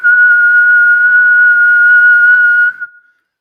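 A steady shift-end factory whistle sounds as one loud, sustained tone for nearly three seconds, then cuts off abruptly, with no other sounds around it.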